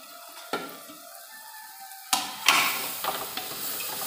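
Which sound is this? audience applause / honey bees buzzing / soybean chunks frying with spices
soybean chunks frying with spices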